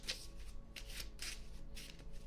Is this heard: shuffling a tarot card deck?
yes